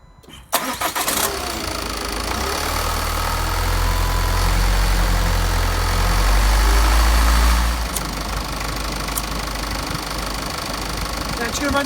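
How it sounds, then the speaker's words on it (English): A 2016 Ford Kuga 2.0 TDCi Duratorq diesel engine starts up after a fuel filter change, then runs at a steady, loud idle with a low, continuous rumble close by for the rest of the stretch. "Now I'm just going to run the engine for about 5 minutes"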